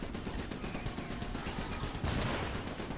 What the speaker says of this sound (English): Anti-air artillery!